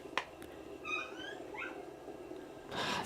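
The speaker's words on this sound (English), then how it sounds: "My worst enemies, the sausage dogs. They're here to interrupt my stream." Dachshunds indoors give faint, brief whimpering yips and whines, a couple of quick high cries in the middle, with light knocks and rustling around them and no talking.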